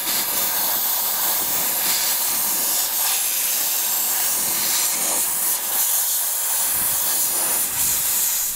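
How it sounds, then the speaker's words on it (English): A steam cleaner blasts gunk from the wire wheel of a Ferrari with a continuous, loud, close hiss, its pressure surging and easing slightly throughout. "All right, so I finished steaming it and the wheel already looks better."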